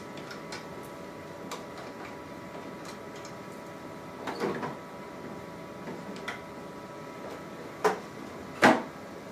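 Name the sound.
removing heated roller assembly from Zebra ZXP Series 8 laminator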